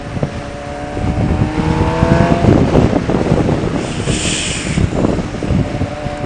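Suzuki GSX-R 750 sport motorcycle in fifth gear, its engine note steady under heavy rushing wind buffeting the microphone, with a brief rising whine midway through.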